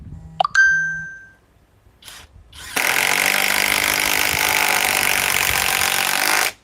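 A 1/2 inch high torque impact wrench gives a short trigger blip, then a loud, steady close buzzing run lasting several seconds before cutting off.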